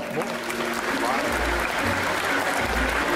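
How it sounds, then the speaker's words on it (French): An audience applauds a cosplayer at the Saturday costume parade of the Yggdrasil Indoor 2023 convention. Dense, steady clapping runs the full length, with a voice and low rumbles partly mixed in. "Je trouve que ça mérite pas mal d'applaudissements"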